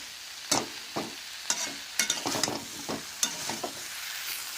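Spice masala for a cauliflower and fish curry is stirred and fried in a pan, a soft continuous sizzle broken by about a dozen crisp scraping strokes of a spoon, close and fairly quiet with no talking.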